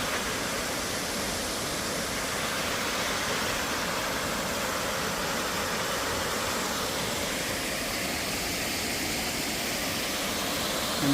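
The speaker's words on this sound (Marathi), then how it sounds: "कोंडवळ धबधबा, जसं की तुम्ही बघू शकता." Kondhawal waterfall near Bhimashankar roars as a steady, broad wash of falling water heard from a distance, unchanging and continuous, with no voices.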